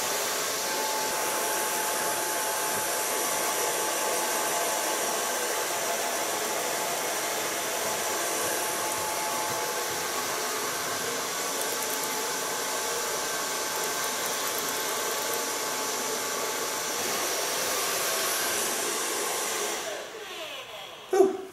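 A hair dryer blows hair dry with a loud, steady airy roar that holds unchanged for about twenty seconds, then cuts off with a short clunk at the end, and no one speaks.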